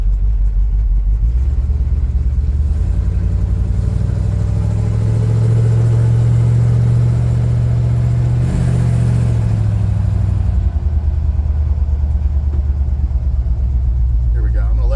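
A 1966 Chevrolet C10 short-bed pickup rumbles steadily at close range as it circles a cul-de-sac, its engine swelling in the middle of the pass and then easing back.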